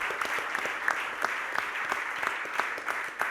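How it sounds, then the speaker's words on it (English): A panel audience at an environmental event applauds activists and hedge rescuers, a steady spread of many hands clapping with a few sharper claps standing out, moderately close and continuous throughout. "We'll give them an applause as well now"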